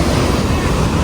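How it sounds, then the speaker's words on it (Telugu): Ocean surf at Rushikonda beach in Visakhapatnam, a steady roar of waves mixed with wind buffeting the microphone, close and loud. "రైట్ సైడ్కి అయితే మొత్తం సముద్రమే"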